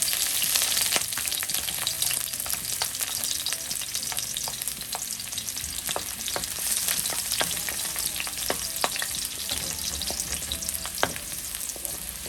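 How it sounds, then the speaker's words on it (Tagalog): Garlic sautéing in hot oil in a pan for pancit bihon guisado, a continuous crackling sizzle with scattered sharp pops and spatter throughout, close and steady with no talking. "Igisa na natin yung ating bawang."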